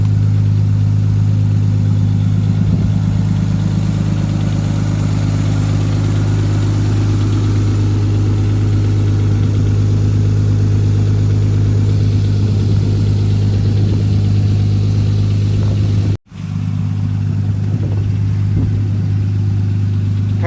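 A Nissan R33 Skyline fitted with Audi R8 ignition coils idles steadily, a loud, close, even engine drone with a brief dropout near the end before it resumes.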